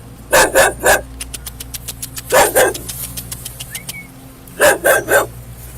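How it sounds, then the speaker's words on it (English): A loose dog barks repeatedly around a crime scene, loud bursts of two or three barks each separated by pauses, with a low engine rumble running underneath. "We have a loose dog that's around the scene"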